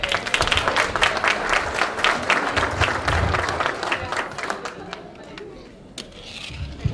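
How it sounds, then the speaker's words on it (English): An audience at a neighborhood awareness fair claps loudly in distinct, crisp hand claps that gradually thin out and fade, with a few scattered claps near the end and some crowd murmur underneath. "how about a round of applause to Martha?"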